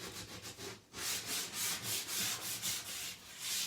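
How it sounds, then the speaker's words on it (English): Sandpaper rubs back and forth over painted wood in quick, rhythmic strokes, a close, soft scratchy hiss repeating about three times a second, with no voices. "now we're just distressing it with some sandpaper"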